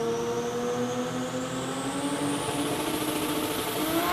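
A twin-turbo RB30-powered drag car launches at an Australian sports compact drag racing meet in Sydney. Its engine gives a sustained, rising howl that climbs steadily in pitch, heard from some distance without any talking.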